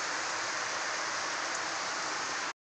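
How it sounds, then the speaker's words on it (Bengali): Heavy rain pouring down outdoors by a green-leaved tree, a dense, even roar of falling water that holds steady and then cuts off abruptly. "খুব বৃষ্টি পড়ছে, প্রচণ্ড জোরে বৃষ্টি পড়ছে দেখুন।"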